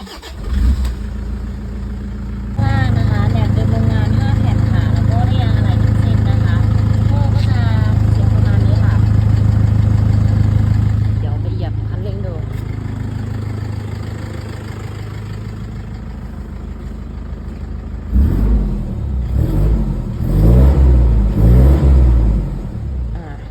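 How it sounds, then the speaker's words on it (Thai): A 2009 Toyota Hilux Vigo Smart Cab with a 2.5 litre diesel and manual gearbox cranks and fires, then settles into a loud, steady idle close by before fading; a few blips of revving follow near the end, with some talk over it. "เดี๋ยวสตาร์ทฟังเสียงเครื่อง"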